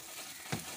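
Chillies hit hot oil in a pan while making a Bengali stingray (shankar) fish curry, giving a brief, soft frying sizzle with a slightly louder crackle in the middle.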